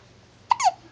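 A baby gives a single short hiccup, a sharp squeaky catch of breath, close and brief against a quiet room.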